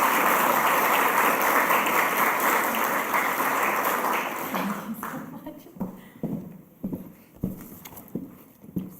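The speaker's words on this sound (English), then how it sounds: "Please, one more time, a round of applause" An audience at an awards ceremony applauds loudly for about five seconds, then the clapping thins into a few scattered claps and footsteps.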